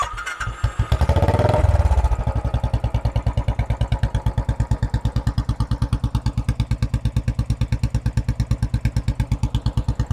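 A 2018 Royal Enfield Classic 500 motorcycle engine cranks briefly, fires up, and settles into a steady, loud, rhythmic single-cylinder thump at idle.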